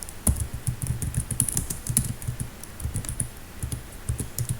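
Rapid, steady keystrokes on a computer keyboard fill the whole stretch as an address is typed into a mail merge entry form; the clicks sound close, with a soft low thump under each burst.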